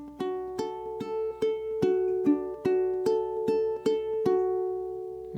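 Low G ukulele fingerpicking the opening two bars of an etude, a run of distinct plucked notes in an even rhythm, close and clean with each note ringing out, no voices.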